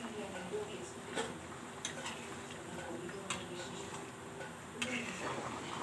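Dried fish and mango pieces being stirred in a pot for a dried fish curry, soft scraping and occasional sharp taps of a spoon against the metal rim over a faint sizzle, quiet and close.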